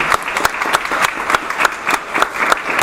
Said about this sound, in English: we need to give him a big round of applause for coming